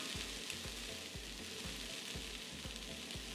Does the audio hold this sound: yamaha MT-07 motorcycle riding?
no